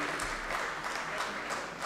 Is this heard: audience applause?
yes